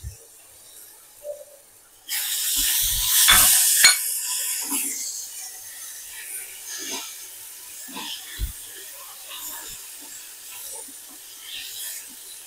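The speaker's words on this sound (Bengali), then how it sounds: "এবার আমি দিয়ে দেবো পেঁয়াজ আর টমেটো একসঙ্গে দিয়ে দিচ্ছি" Onion and tomato hit hot mustard oil with a loud sudden hiss that settles into a steady, softer sizzle close by.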